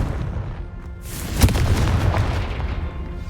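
A Confringo spell explosion in the Hogwarts Legacy video game: one loud, deep boom bursts out after a low rumbling lead-in, then a rolling, crackling tail of debris that slowly fades.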